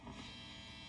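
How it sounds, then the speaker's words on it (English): Guitar buzz through a Fender Blues Jr amp, a faint steady electrical hum and buzz held for a brief moment with no playing or voices. "This is just my guitar buzzing."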